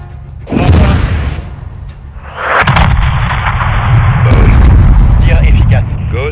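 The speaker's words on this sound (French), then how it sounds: "Détruisez cette porte avec un missile ou le canon 40 mm." A missile blasts a door in the video game Call of Duty: Modern Warfare 2, a heavy explosive boom bursting out, then a loud sustained roar of blast and rumble for several seconds, with faint voices underneath.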